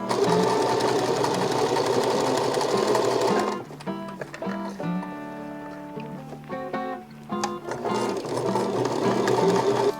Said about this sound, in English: now I'm going to sew down this line